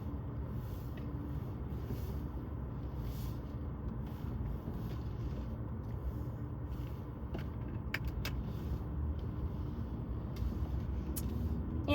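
2024 Mercedes-AMG C63 S E Performance shifting into drive and pulling away, with a steady low rumble and faint clicks over a constant drone.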